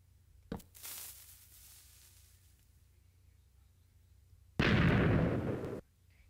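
A TNT block detonating in Minecraft, a loud broadband blast lasting about a second after a small ignition pop and quiet fizz, with no talk over it.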